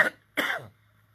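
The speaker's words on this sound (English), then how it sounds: "Yeah, that's the cough." A COVID-19 patient in a hospital bed gives two short, rough coughs, the second longer and raspier, close to the microphone with quiet between them.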